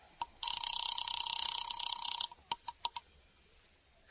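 An old telephone rings on an operator-placed call to a Murray Hill number, one long buzzing ring followed by a few short clicks. It sounds thin and radio-like, with no talk over it.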